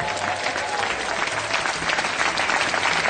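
A studio audience applauds and cheers loudly for a guest's entrance at a This Is Your Life-style tribute show, a dense, continuous wash of clapping with no break.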